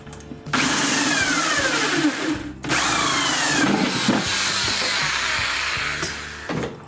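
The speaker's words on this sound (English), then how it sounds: "we're going to use a 14 mil spade bit, which is that one there, and we're going to drill a hole in the bottom of the bucket" A power drill with a 14 mm spade bit bores a hole in the bottom of a plastic bucket. It makes a steady, loud whirring grind that runs for several seconds, with one short pause and no speech.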